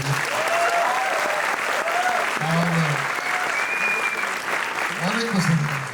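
An audience at a press meet in India gives loud, sustained applause for a singer, a dense wash of clapping running the full length, with a few voices and whoops rising above it.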